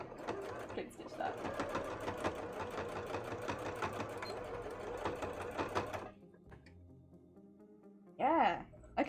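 Sewing machine running a zigzag stitch on a cosplay petticoat, a rapid, even mechanical chatter close up for about six seconds, then stopping, with a person speaking briefly afterward.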